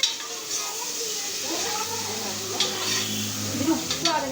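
A spoon stirring a curry gravy with onions in a pan, soft scraping and light sizzling close by, partly mixed with background voices.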